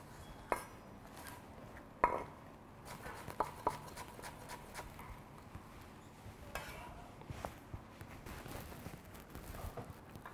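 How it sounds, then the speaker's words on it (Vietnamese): A knife finely chops two stalks of green onion on a cutting board, making quiet, irregular sharp taps spread through a muffled kitchen background. "Đang có đây là hai cọng hành, mình sẽ thái nhuyễn mình cho vào."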